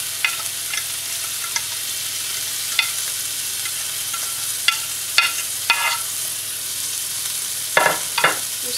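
Salmon cooking in a pan on a slow flame, a steady gentle sizzle with occasional sharper pops and stirring clicks, close and alone without talk.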